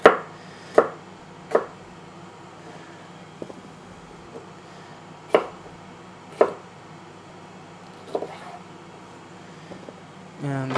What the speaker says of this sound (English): So I'm just going to cut these into little strips for my fajita bowl